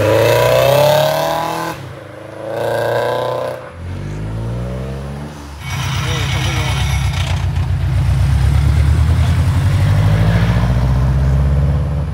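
A car engine in the Forza Horizon racing game revs hard through several upshifts, then climbs into a loud, raspy high-rpm howl as the VTEC stage engages, sustained and close with no talk.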